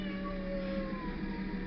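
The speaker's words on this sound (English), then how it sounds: "Oh, that's my cat." A cat meows once, a short plaintive call heard close against a steady background hum.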